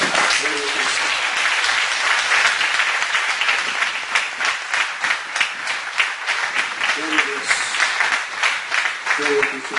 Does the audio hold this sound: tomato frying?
no